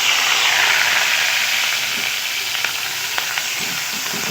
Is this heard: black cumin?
yes